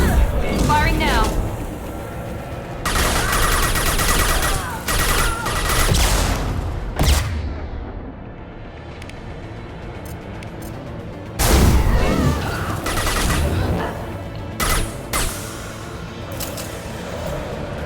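Gunfire from a firefight in the Mass Effect 2 Legendary Edition video game: dense bursts and booming shots in loud, overlapping clusters, broken by quieter stretches and fresh volleys, with voices calling out between them.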